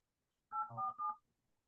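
Telephone keypad DTMF tones dialed into a Zoom meeting line on speakerphone, a short burst of overlapping beeps lasting under a second, fairly clear and alone.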